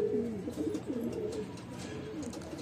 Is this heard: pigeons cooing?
yes